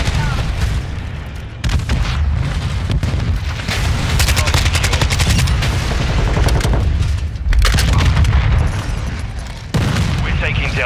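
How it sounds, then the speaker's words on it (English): In the Call of Duty Modern Warfare 2 Ground War mode, a cruise missile strike brings heavy booms and explosions amid dense bursts of gunfire, with game radio chatter heard over the constant loud battle. "Hostiles launched a cruise missile."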